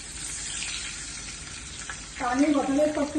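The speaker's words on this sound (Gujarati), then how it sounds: "1/4 જેટલું પાણી નાખીશું." Water splashes into a hot pan of frying sev khamani mixture and sets off a sudden, loud, crackling sizzle midway through, after a quieter stretch of low frying.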